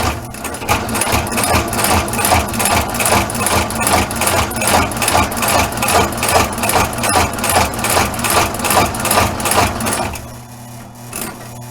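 A Blake stitch machine sewing an Italian shoe runs loud and close with a steady, fast mechanical chatter for about ten seconds, then stops and leaves a low hum.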